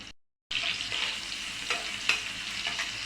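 Chopped onions and garlic softening in oil in a pan, a steady bright sizzle with occasional crackles and stirring scrapes, loud and close after a brief silent gap at the start.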